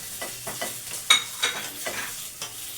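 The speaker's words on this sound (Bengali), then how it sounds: "এবার এটাতে আমি খুব ভালো করে ভেজে নেবো" Jujube fruit frying in a pan, crackling sizzle broken by repeated scraping stirs of a spatula, a few sharper clinks, close and alone without voices.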